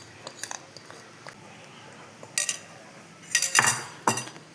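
Gram flour being stirred into sugar syrup in a pan for Mysore pak, with close scraping and clinking of a spoon against the metal pan in irregular bursts, louder toward the end.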